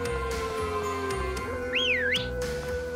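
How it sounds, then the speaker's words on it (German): A character whistles in the Pokémon Sword game, a rising and falling whistled tone heard over looping game music. "Erstmal pfeifen."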